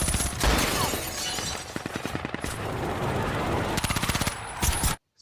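Rapid bursts of gunfire crackle through a dense, noisy action scene in the film Extraction (2020), with quick repeated shots in two volleys and a loud blast, a car explosion, near the start.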